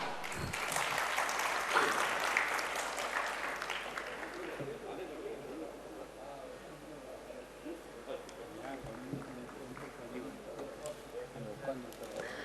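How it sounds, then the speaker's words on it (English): A modest crowd at an economic summit awards ceremony claps for the first few seconds, then the applause thins out and fades as indistinct talking and room murmur take over. "I can hear only 10 people giving their appreciation in the form of clap."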